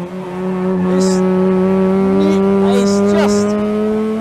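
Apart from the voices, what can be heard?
TWR Mazda RX7 race car driving at speed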